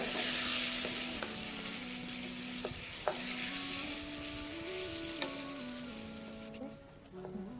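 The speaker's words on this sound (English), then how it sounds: "So I've got some freshly blended tomatoes," Freshly blended tomatoes sizzling in a pan while being stirred, a steady frying hiss with occasional scraping knocks, fading a little toward the end.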